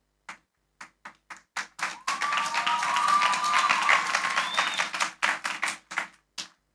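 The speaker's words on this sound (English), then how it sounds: "Give her a round of applause as well." Audience applause at a high school graduation ceremony, opening with scattered individual claps that swell into a sustained round of clapping, then thin back out to a few isolated claps.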